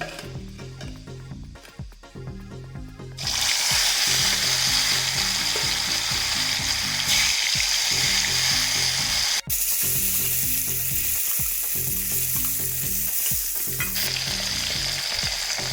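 Snakehead murrel fish pieces and a few fenugreek seeds hit hot oil. After about three quiet seconds a loud, dense, steady sizzle erupts and holds, with a brief dip near the nine-second mark.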